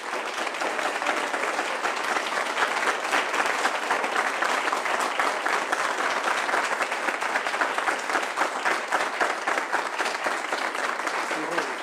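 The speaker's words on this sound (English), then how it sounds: "I'm afraid my guide dog Twain thinks the applause is for him" An audience at a county Board of Supervisors meeting breaks into sustained applause, steady dense clapping that carries on evenly for over ten seconds.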